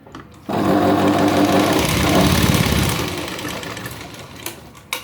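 An electric sewing machine stitches a small piece of blouse sleeve lining fabric, a fast steady whirring hum that starts suddenly, runs loud for about two and a half seconds, then fades to a quieter mechanical rattle with a few clicks.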